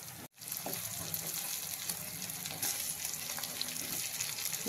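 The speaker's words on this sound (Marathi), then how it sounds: "चांगल्या लवंगा अशा आपण ह्याच्यामध्ये परतून घेणार।" Whole cloves roasting in a pan with a small amount of millet, giving a steady close sizzle with faint stirring scrapes throughout.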